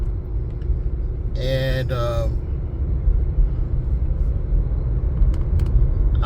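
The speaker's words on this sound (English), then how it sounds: "I recently got a 2017 Ford Fiesta I'm driving," A 2017 Ford Fiesta on the road, with steady low engine and tyre rumble running under a voice as he talks throughout.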